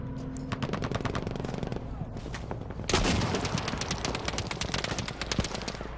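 Rapid, sustained machine gun fire in the Battlefield V multiplayer game, loud and close, with dense bursts of shots that swell heavier and harsher about halfway through.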